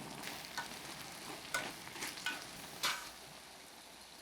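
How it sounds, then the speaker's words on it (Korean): Eggplant, egg and red and green bell peppers stir-frying in a pan with sauce, a steady close sizzle broken by a few brief scraping stirs of the spatula, with no voices. "맛있게 졸이면서 볶아줄게요."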